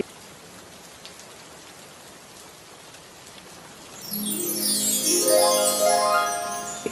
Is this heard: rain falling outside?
yes